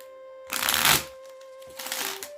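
Oracle cards are shuffled by hand: a quick riffling burst, a pause, then a second softer flutter, close and crisp over a quiet background with faint music tones.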